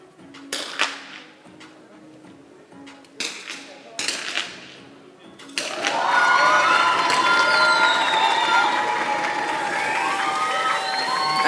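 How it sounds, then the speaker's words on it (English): A spectator crowd cheers at a women's 50m rifle three-positions shooting World Cup final in Bhopal, with a few sharp shots and short bursts of noise first, then a loud, sustained roar with whistles and shouts. "Again, strong cheers from the crowd."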